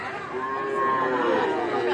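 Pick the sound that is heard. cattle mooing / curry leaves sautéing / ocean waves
cattle mooing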